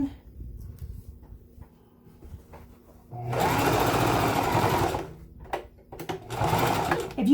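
A Brother sewing machine with a walking foot stitches a handbag: quiet handling sounds first, then two sustained bursts of rapid mechanical whirring, close and loud, separated by a brief pause.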